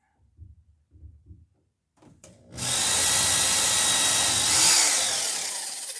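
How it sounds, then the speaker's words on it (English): A power drill bores into a nail in the rubbing strake of a wooden dory under construction, starting with soft knocks and then a loud, steady high-pitched whine close up for several seconds. "And like you saw, I just drilled into a nail."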